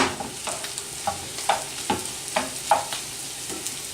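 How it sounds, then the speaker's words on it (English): Sausage sizzling in a pan while a utensil breaks it up, a steady frying hiss punctuated by regular scraping taps roughly every half second, close and clear with no talking. "At this point, add your sausage. Really break it up. Cook for about 5 minutes until cooked all the way through."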